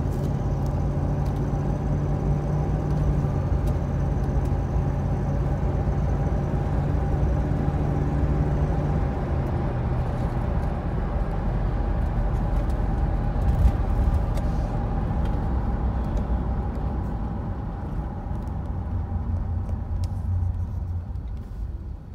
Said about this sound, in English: We'll now take her up the dual carriageway just to show what she can do.